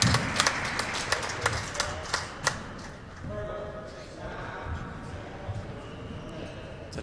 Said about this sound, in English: Nice rally right there, and the crowd absolutely enjoying it